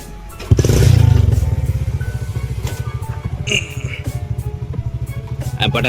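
Hero Splendor motorcycle engine idling up close with a steady, rapid thumping putter that stays even throughout, with brief clatter and background voices mixed in.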